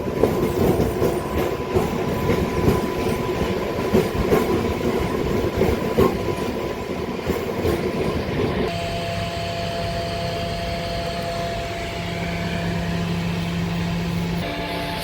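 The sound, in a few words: local MEMU passenger train at Ramanapeta railway station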